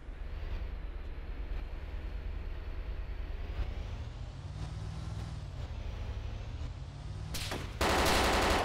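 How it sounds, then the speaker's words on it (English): Gunfire in the military survival game Arma 2 DayZ, heard over a constant loud vehicle engine rumble with shifting pitch, the shots sparse and mostly buried until a sudden burst of bright, harsh noise at the end. "Taking shots from the building, yep."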